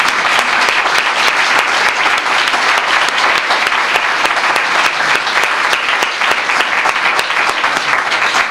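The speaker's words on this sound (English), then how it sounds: "How about another round of applause for you guys?" An audience gives a round of applause to young people at an event with Boston mayor Martin J. Walsh, dense steady clapping throughout, close and loud.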